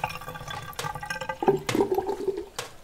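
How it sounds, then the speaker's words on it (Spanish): A household water tap is turned on and off, with water gushing and splashing into a basin in short bursts separated by pauses, fairly close and loud, and no talking. "Yo voy a abrir y cerrar el grifo."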